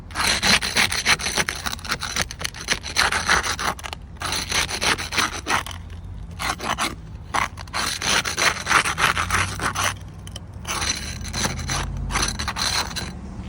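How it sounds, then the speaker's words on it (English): Gritty scraping and rubbing of a tool worked underneath an asphalt roof shingle, with granules coming loose. The rasping strokes come in close, repeated bursts separated by brief pauses, loud and steady. "Even as I'm scraped underneath the shingle, there's a lot of granular loss coming off"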